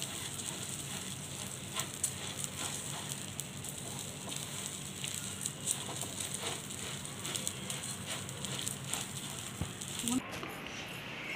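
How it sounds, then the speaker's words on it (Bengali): Rice dry-frying in a hot pan while making coconut sesame sweets, a steady close crackling sizzle with faint scraping that runs evenly throughout. "চালটা আমি পুরো ভেজে নিব, লম্বা করে আমি বইলে দিব, যেটা দুটোই ফ্রাই করে দিচ্ছি।"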